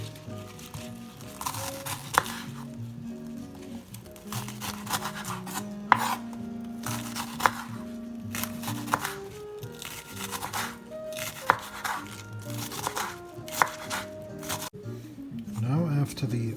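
A knife chops shallots, garlic and bok choy on a board in a kitchen, giving repeated sharp taps and clusters of cuts at an uneven pace, close and crisp amid rustling.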